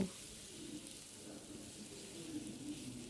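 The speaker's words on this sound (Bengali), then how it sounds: "এখন আমি তেলটা গরম করে নেওয়ার পর খুব সুন্দর করে ডিমগুলোকে ভেজে নিব" Eggs fry in hot oil in a pan while making Bengali-style vegetable egg fried rice. The oil gives a soft, steady, close sizzle that runs throughout without a break, and no one speaks.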